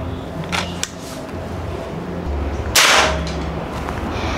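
A single sharp, hissing pop of a Predator OD 38 V1 PCP air rifle shot, loud and close, standing out against a steady low background hum with a faint click beforehand.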